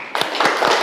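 A brief burst of group hand clapping at a teachers' workshop in Indonesia, a few quick close claps blending into a short patter.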